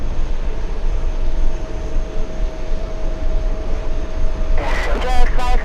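A jet airliner spools up for takeoff at JFK on runway 13 right, a loud, steady engine roar with a sustained whine, joined near the end by a brief burst of radio-style talk.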